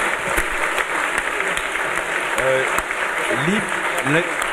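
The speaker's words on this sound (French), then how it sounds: "on peut les applaudir" Applause from a conference audience fills the room at a moderate level, with voices calling out faintly over the clapping.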